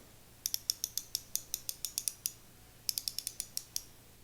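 A modified drag clicker on a Shimano Stella spinning reel gives off two runs of quick, crisp metallic clicks, close and fairly faint, with a short pause between bursts and no talk.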